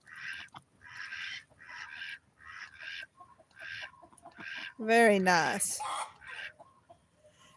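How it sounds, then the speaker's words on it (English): Rhythmic raspy duck calls repeat in short bursts, then a louder warbling rooster call rises up as he calls his hens to bed; a person briefly speaks amid the calls. "that's our rooster calling his hens to bed"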